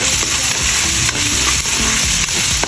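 Chopsuey ingredients frying in a pan with seasonings, stirred steadily: a loud, continuous sizzle with scraping strokes of the spoon running throughout, close up and with no talking.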